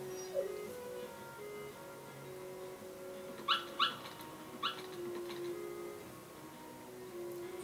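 Dalmatian puppies in the Kingdom Hearts video game give a few short, high yips and whimpers, three quick clustered barks in the middle of the stretch over a steady background music bed.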